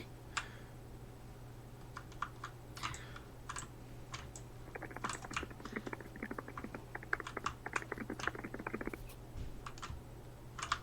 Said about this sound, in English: I love the sound of Jay typing. They can type so fast.